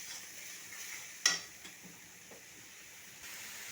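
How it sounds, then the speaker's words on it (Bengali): Ground spice paste and chopped onions being stir-fried in a pan: a steady soft sizzle runs throughout, with a sharp clatter of the spatula early on and a few lighter scrapes after. "এরপরে দিয়ে দিচ্ছি বেটে রাখা মশলাটা। এরপর ভালোভাবে মশলাটাকে কষিয়ে নেব।"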